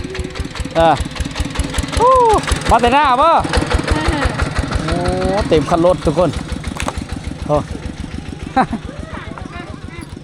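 A farm tractor engine chugs steadily nearby with a rapid, even thumping rhythm in a village, while people talk loudly over it.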